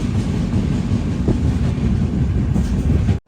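The Aronai Express rumbles loudly along the rails between Mavelikkara and Chengannur, a dense continuous roar close by that cuts off abruptly near the end.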